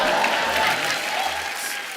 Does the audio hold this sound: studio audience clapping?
yes